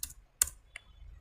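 A few crisp clicks from a computer keyboard while Python code is typed: one sharp keystroke and a softer one, close and fairly faint, with quiet pauses between them and no talking.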